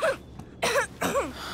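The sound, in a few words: character coughing from cold in video game Life is Strange 2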